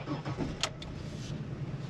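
A Ford car on a test drive after an ABS sensor repair, heard from inside as a steady low engine and road rumble with a brief clunk midway, close and continuous without talk.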